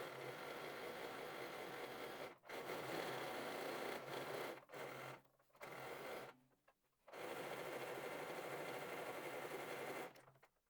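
A sewing machine runs in long steady bursts while stitching a second reinforcement seam on lace trim for lingerie, its fast motor buzz broken by several short pauses.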